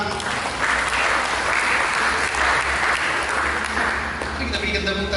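A church congregation claps together during a sermon, a steady, full wash of applause that carries on with a voice speaking over it.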